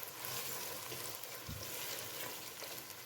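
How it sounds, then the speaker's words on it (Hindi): Boneless chicken pieces frying in a pan: a continuous soft sizzle with faint stirring underneath, quiet and even throughout with no voices. "चिकन जब तक फ्राई हो रहा है अच्छे से"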